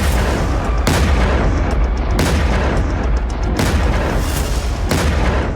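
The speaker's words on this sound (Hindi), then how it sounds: "तस्वीरें देखिए, धड़कते शोरों के बीच लगातार धमाके हो रहे हैं।" Repeated heavy explosions during an attack on Isfahan, Iran: loud booms land roughly every second or so over a continuous roaring rumble, with no pause throughout.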